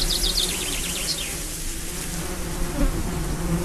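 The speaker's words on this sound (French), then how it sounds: "Les abeilles, affolées, se dispersèrent aux quatre coins de la terre." A steady buzz of bees hums throughout, continuous and fairly close, with a few faint chirps above it.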